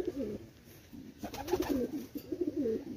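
A male Salara Tady pigeon coos close by in a short series of throaty, rolling calls, pausing briefly between bursts and with no voices.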